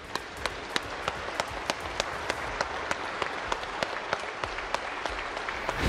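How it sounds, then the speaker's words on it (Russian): Deputies in Ukraine's parliament applaud the president in a steady, dense wave of clapping from a large seated crowd, with sharper individual claps standing out, sustained throughout and swelling slightly at the end. "Депутаты встретили его аплодисментами"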